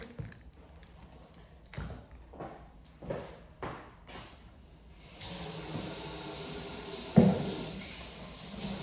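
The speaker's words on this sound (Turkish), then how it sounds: "Şimdi bu akşam için elimi bir yıkayayım." A kitchen tap runs for hand washing: a few knocks and handling clunks first, then a steady rush of running water that continues to the end, close by with a louder splash or bump near the end.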